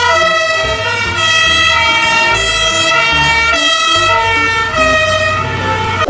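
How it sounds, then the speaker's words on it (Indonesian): A toy fire ladder truck plays a loud electronic siren that wails steadily in repeating two-tone cycles, close and alone with no voices over it. "Widih, truk tangga pemadam kebakaran."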